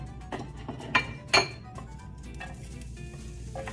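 Garlic hits hot olive oil in a pan for pasta alla boscaiola, giving a soft continuous sizzle punctuated by two sharper metallic clinks from utensils or the pan, fairly close and quiet.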